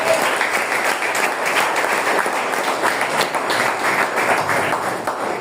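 Church congregation clapping for God during a sermon, a full, steady burst of many hands clapping at close range, loud and continuous with no talking over it.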